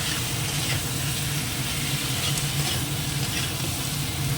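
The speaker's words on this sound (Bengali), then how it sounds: "এবার আলু আর ডিমটাও দিয়ে দেবো একসঙ্গে করে একটু কষাবো" Potatoes and eggs sautéing together in a pan give off a loud, continuous sizzle with soft stirring scrapes underneath, steady from start to finish.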